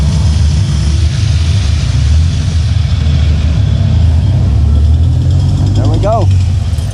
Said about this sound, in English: This is a video riding in the back of a jeepney